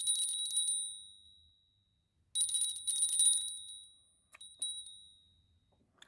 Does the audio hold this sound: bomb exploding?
no